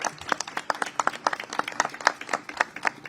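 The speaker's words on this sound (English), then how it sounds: "I ask that you join me in giving Reverend Jesse L. Jackson a rousing round of applause" Audience applause honoring Reverend Jesse L. Jackson at a news event, a steady run of individual hand claps from a modest crowd, close and fairly loud with distinct slaps throughout.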